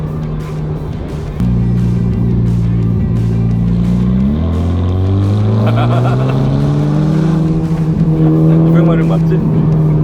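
A Ferrari Roma with its 620-horsepower turbocharged engine accelerates hard in comfort mode, the engine note climbing through rising gear pulls with a shift partway, loud and close from inside the car, with a voice speaking over it.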